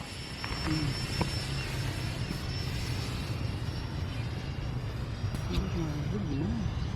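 A DIY radio-controlled Su-57 Felon model plane flies past with a steady buzzing motor drone of a ducted fan or pusher prop, holding constant throughout, heard outdoors with faint voices.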